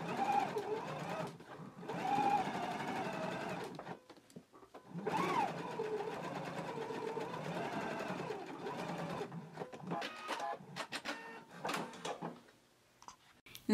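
A domestic sewing machine basting a collar onto a neckband, running in several bursts of steady whirring stitching separated by short pauses, close and fairly loud, with faint talk in places.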